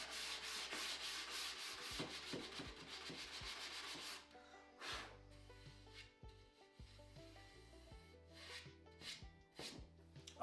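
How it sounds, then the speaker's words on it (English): Foam sanding block rubbed back and forth over new shaker cabinet door frames while prepping them for paint, giving a close, steady scratchy rasp in rhythmic strokes, with gaps and lighter passes later on. "I love these little foam sanding blocks."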